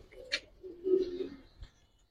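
A single cooing call from a Giribaz pigeon with a downward-shaped parrot-like beak, one close, low rolling coo in the middle, with a few soft taps and rustles before and after.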